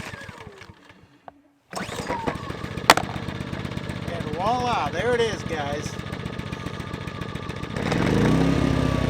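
An Echo EGi 2300 generator, fresh oil just added, cranks after a quiet stretch, catches and runs with a steady engine drone that rises louder near the end as it revs up, with someone talking over it.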